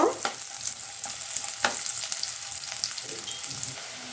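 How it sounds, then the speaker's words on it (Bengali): Chopped onions frying in hot oil for vegetable noodles, a close crackling sizzle with scattered pops and stirring scrapes, moderately quiet and continuous. "আমি পেঁয়াজটা হালকা করে ভেজে নিব।"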